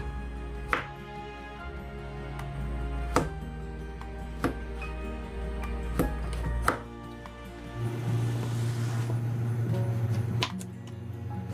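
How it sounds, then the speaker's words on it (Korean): A knife chops through a zucchini on a board in a series of sharp, separate cuts, close up, with a faint hum in the background. "칼집을 한 번, 2번 넣고 잘라주세요"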